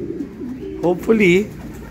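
A pigeon coos up close in a loft, a low throaty warble, over a steady background hum.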